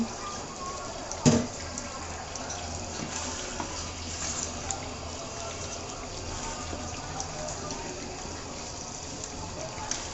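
A mug of water is poured into fresh beef in a cooking pot for beef bhuna, giving a continuous soft watery rush with one brief clank near the start, faint and close, with some voice in the background.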